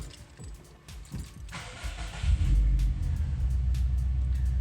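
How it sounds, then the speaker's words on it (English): A Subaru WRX engine cranks over and catches, settling into a loud, steady low idle rumble close by after a few faint clicks, with no one speaking. "I'm actually going to start the car."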